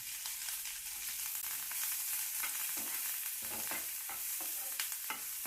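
Onion and curry leaves fry in a pan for a Karnataka red amaranth palya, a steady soft sizzle broken by scraping stirs, with no talking.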